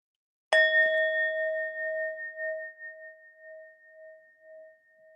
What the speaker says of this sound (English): This is the bell.